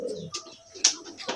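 A gambir bird named Musangking calls in short, soft, scattered notes and sharp chirps, fairly close among quiet background sounds, with no talking.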